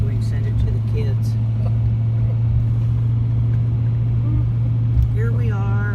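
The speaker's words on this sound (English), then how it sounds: "Here we are, driving along Highway 1, the coastal highway of the Pacific Ocean." A car driving along coastal Highway 1 on the Pacific Ocean, heard from inside as a steady, loud engine and road hum, with people talking over it.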